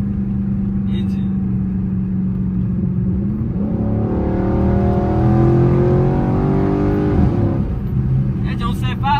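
A Chrysler 300 SRT 392 engine idles with a deep exhaust rumble, then revs up and holds a higher pitch for a few seconds before settling back down, close and loud.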